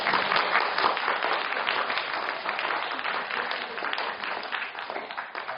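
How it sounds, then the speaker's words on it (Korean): Steady applause from an audience, dense clapping that fills the whole stretch at an even level without pause. "박수 한번 주세요."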